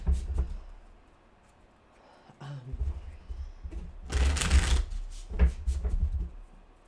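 Ghost Tarot cards are shuffled by hand at close range, soft riffling bursts and taps separated by short pauses, with a stronger flurry of shuffling near the middle.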